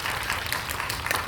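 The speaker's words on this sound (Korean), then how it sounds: "박수로 시작하겠습니다." Brief burst of audience applause at a film screening Q&A for the movie Revolver, a dense patter of clapping at steady moderate level with no clear speech.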